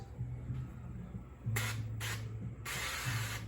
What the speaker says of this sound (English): get a sprayable Pam or olive oil or whatever it is that you use